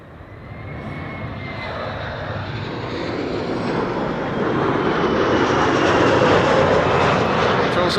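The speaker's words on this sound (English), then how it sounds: "Transavia arriving from Catania" A Transavia airliner arriving from Catania at Amsterdam Schiphol Airport on a sunny day, its broad engine roar swelling steadily louder and nearer as it passes overhead.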